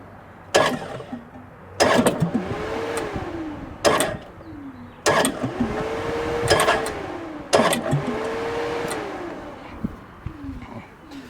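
The diesel engine of a Bobcat MT100, its glow plugs loosened, is cranked over several times. Each burst of starter churning lasts one to two seconds, with whining pitch sweeps, separated by short pauses.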